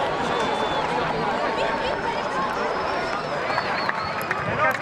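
A large crowd surges and converges in St Peter's Square at the sight of white smoke, a steady roar of many voices, footsteps and excited chatter under someone speaking.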